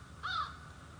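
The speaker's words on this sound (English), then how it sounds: "I can't hear anything except the birds" A single crow caws once in a Maine park, a short, moderately distant call standing out against a quiet outdoor background.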